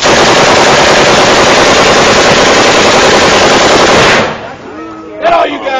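Full-auto gunfire from a shoulder-fired rifle or submachine gun rips out as one loud, dense, unbroken burst for about four seconds, then stops abruptly, leaving a brief pause and a short voice.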